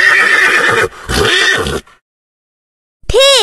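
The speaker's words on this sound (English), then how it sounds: "Horse." A horse neighs loudly and close up in a burst of whinnying, then falls silent before a final high whinny begins.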